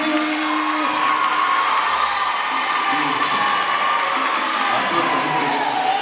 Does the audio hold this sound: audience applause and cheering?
yes